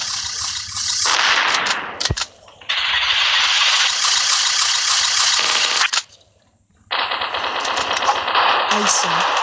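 Rapid automatic gunfire in a shooter video game, loud and dense bursts with brief gaps, under a player's excited talk.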